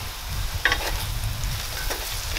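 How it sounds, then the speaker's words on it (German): Sugar snap peas and onions frying gently in a pan over low heat, a soft continuous sizzle with a few faint stirring scrapes, close and steady. "gebe ich noch die Zuckererbsen dazu und brate diese ebenfalls 5 Minuten lang mit an auf niedriger Hitze"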